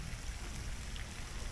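Steady rain falling outdoors at Taipei Zoo, a soft even hiss of drops on surfaces, faint and continuous with no other sounds.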